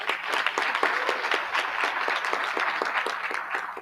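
An audience claps for colleagues being honored for years of service, a dense, lively burst of applause with sharp individual claps standing out, fairly close and sustained evenly from start to finish.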